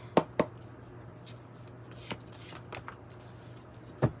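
Playing cards shuffled and drawn for a reading, with a few sharp riffling snaps and soft sliding rustles against a quiet low hum.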